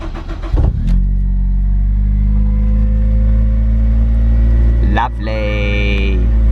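A Honda Civic EP3 Type R cranks briefly and catches, then settles into a loud, steady idle close by, with a short rising rev near the end.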